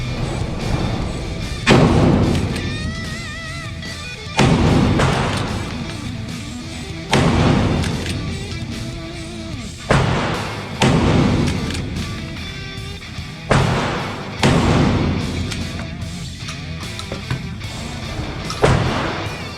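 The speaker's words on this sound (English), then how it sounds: "This is my home defense shotgun." A home defense shotgun fired with buckshot at an outdoor range, giving about eight heavy booming blasts spaced a couple of seconds apart, each trailing off into a rumbling echo.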